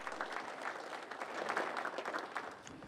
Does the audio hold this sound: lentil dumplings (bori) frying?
no